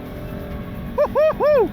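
Husqvarna 701 Enduro motorcycle engine blipped three times in quick succession, each short rev rising and falling sharply over a steady low riding drone, loud and close with no talking.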